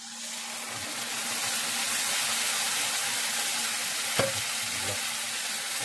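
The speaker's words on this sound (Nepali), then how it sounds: "मसलालाई मजाले भुट्ने" Ginger, garlic, cumin and turmeric masala fries in hot oil in a pan, giving a steady loud sizzle and hiss with a brief stirring clatter near the end, and no voices.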